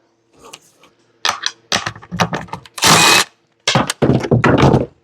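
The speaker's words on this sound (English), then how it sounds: "Get you a wrench, just 10 millimeter on the back." A 10 mm bolt is loosened with a wrench on the back of a Yard Machines riding mower that has no power. Close metallic clicks and ratcheting bursts come in uneven spurts, with one louder grinding stretch in the middle.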